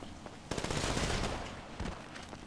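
Pistol gunfire in GTA 5 Online rattles off in a rapid, dense burst of shots, loud and close, then trails into a few scattered follow-up shots.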